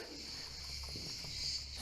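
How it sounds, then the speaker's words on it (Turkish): Crickets in a back garden chirp in a steady, continuous high trill that sits close and even against a quiet outdoor background, with no talking. "Cırcır böcekleri uyanırsınız."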